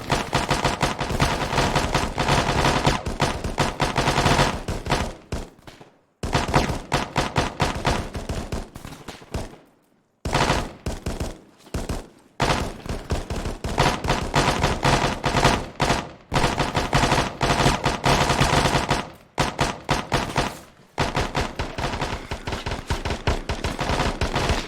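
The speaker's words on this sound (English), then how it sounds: "I need more gunfire heading east into that woods" Sustained bursts of rapid automatic gunfire in a video game, loud and continuous, broken by a few brief silent pauses.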